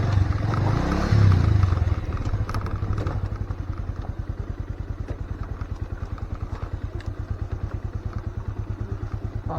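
A motorcycle rides over a rough off-road track at night near a Sherpa community in North Bengal, its engine throbbing close in a steady pulsing rhythm, with a louder surge of revving early on and bumps and clatter throughout.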